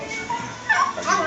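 A pitbull gives short whimpering yips and a bark, close and loud over about a second, with people talking around it.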